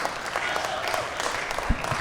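Audience at a stand-up comedy show applauding, a steady dense patter of clapping from a full crowd that fills the whole stretch.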